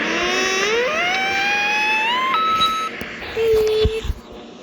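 Electronic beeping from a washing machine: a rising, gliding tone that steps up in pitch, then a short steady beep a moment later, loud and close in a quiet room.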